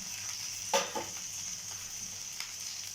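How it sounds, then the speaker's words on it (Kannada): Coriander powder, chili powder and grated coconut fry in a pan for molake hurlikalu sambar, a soft sizzle with a couple of brief stirring clicks. "ಎಲ್ಲ ಸೇರಿಸಿ ಫ್ರೈ ಮಾಡ್ಕೊಳ್ತೀನಿ."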